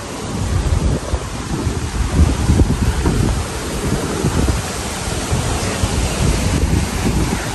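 Strong wind and heavy rain lash an outdoor spot beside a small river, a loud, steady broadband roar with gusty swells and no voices throughout.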